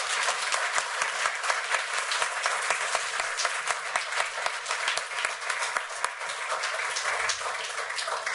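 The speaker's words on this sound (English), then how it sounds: "please give Francine another round of applause" Sustained audience applause honoring a Holocaust survivor at a talk, a dense, steady round of clapping with occasional sharper individual claps, continuing on its own for several seconds.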